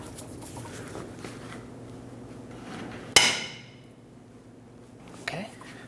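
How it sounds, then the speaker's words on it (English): A long wrench breaks a stuck nut free on a 1996-2002 Toyota 4Runner during rear coil spring work, giving one sharp, loud metallic crack with a ringing tail, then a fainter clank later over low workshop background. "I'm gonna use the wrench, a longer wrench, to break the nut free first"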